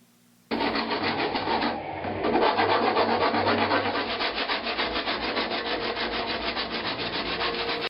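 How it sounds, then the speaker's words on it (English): Steady, continuous rasping and sanding of a grille trim edge with a rat tail file and sanding block, a coarse scraping rhythm close up that runs without pause after a brief quiet start. "I've gone over this edge with a rat tail file and a sanding block"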